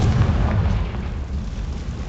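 A fire-spell explosion in the Hogwarts Legacy game bursts as a deep, rumbling boom that rolls on and slowly fades over about two seconds, loud and alone.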